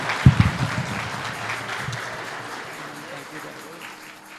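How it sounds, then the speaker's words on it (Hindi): A church audience at a Christmas carol programme breaks into applause, a loud opening burst of clapping that gradually thins and fades over several seconds. "जोरदार तालियां"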